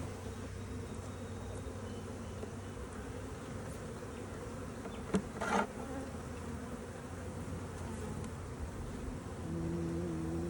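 Honey bees hum and buzz steadily around an opened spring hive during an inspection of brood frames, a dense continuous drone with a few brief louder passes close by.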